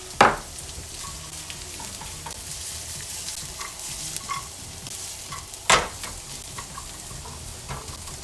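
Food sautés in olive oil in a heated pan, a soft continuous sizzle punctuated by two sharp utensil scrapes and a few light clicks of stirring.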